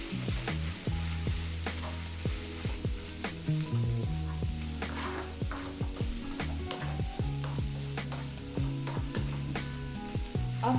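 Mustard greens stirred in a sizzling pan: steady frying hiss with repeated clinks and scrapes of a utensil against the pan, close and fairly loud, no talking.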